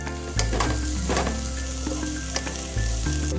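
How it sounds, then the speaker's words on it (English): Halved green chili and curry leaves fry in hot oil in a pan for a brinjal and double beans curry: a close, bright crackling sizzle with sudden louder bursts as ingredients hit the oil, and faint stirring, no voices. "Adding 1 green chili. Cut it into half. I'm going to add a few curry leaves to this."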